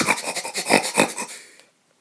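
A person imitates snoring with a rapid run of close, loud rasping snorts that fade out after about a second and a half.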